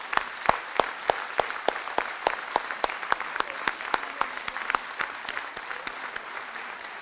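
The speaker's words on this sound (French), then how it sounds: "Applaudissez-les, car ils ont tous travaillé pour leur village." An audience at a village campaign gathering applauds the volunteers, a fairly small crowd whose separate hand claps stand out sharply in a steady, slightly uneven rhythm.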